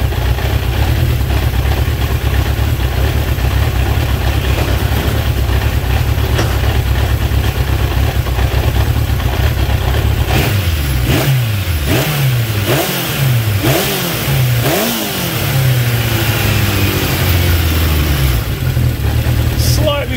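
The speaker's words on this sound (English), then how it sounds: "Okay, I just want to bring the revs up a little bit." A Honda CB750 K2 motorcycle engine, set up for carburetor balancing, idles steadily and loudly, then is revved in several quick throttle blips before settling back to idle. A voice talks over it.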